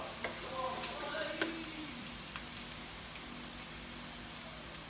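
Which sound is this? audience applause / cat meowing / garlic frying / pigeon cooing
garlic frying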